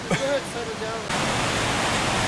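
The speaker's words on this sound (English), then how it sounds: "fill water jugs from this meltdown stream" A snowmelt stream in the Trinity Alps backcountry rushes loudly and steadily, a broad close hiss of water that fills the scene after a brief bit of voice at the start.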